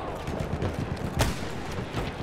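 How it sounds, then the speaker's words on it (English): Friendly gunfire in a Battlefield 1 match comes as a dense patter of distant shots, with one sharper crack standing out midway. "Just friendly fire."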